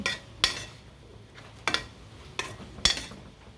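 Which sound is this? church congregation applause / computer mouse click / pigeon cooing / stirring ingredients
stirring ingredients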